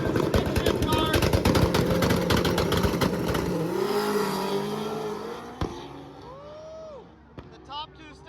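Two stick shift drag cars accelerate hard down the strip at a drag-and-drive event, a loud sustained engine roar with shifting pulses that fades as the cars pull away. Faint crowd and a short squeal follow.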